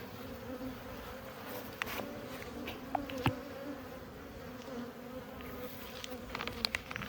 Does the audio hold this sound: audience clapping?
no